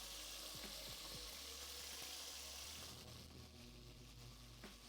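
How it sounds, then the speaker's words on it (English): Honey garlic pork bites sear in a pan on an induction hob, giving a steady close sizzle with faint stirring clatter and no voices. "I love frying stuff on the induction too."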